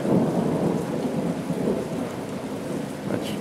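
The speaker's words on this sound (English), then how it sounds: "It's raining pretty hard." Heavy rain pours down in a dense, steady roar with low rumbling thunder mixed in, heard outdoors somewhere in the Florida Keys with no voices.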